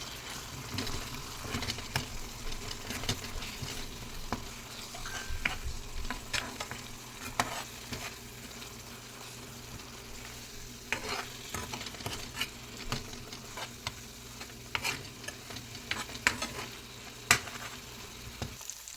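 Turmeric, cumin and coriander powder get stirred into a frying paneer gravy, a soft continuous sizzle under repeated spoon scrapes and knocks against the pan, fairly quiet and close throughout.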